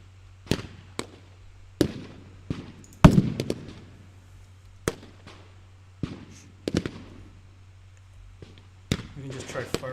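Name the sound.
unit firing shots in a video game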